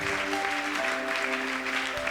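A church congregation applauding together, dense continuous clapping with a steady sustained sound, close and loud, with faint tones beneath.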